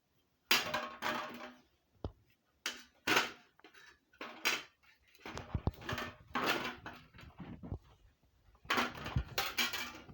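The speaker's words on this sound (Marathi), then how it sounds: "आपण कापून बघू आता पिकलेली आहे का नाही चांगली" A knife slicing open a ripe, seedless papaya, giving scattered close clacks and scrapes of the blade against the fruit and a hard surface, in bursts separated by short silences.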